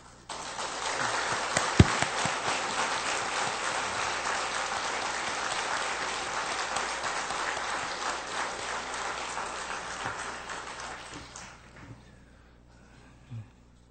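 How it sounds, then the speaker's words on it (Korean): A congregation at a Salvation Army church in Seoul claps warmly together, a dense and steady round of applause lasting about eleven seconds before thinning out and fading away. "축복을 박수에 담아서 크게 박수해 주시면 감사하겠습니다"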